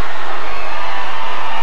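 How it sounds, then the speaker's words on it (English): Basketball crowd and bench cheering and applauding for Logan during a timeout, a steady dense roar of voices and claps throughout. "he gets a big hand from the Logan crowd and the Logan bench"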